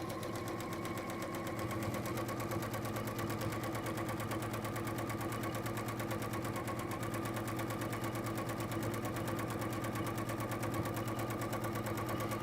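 Sewing machine running straight line stitching, a continuous rapid mechanical chatter with a steady rhythmic whir, even and unbroken throughout with no talk.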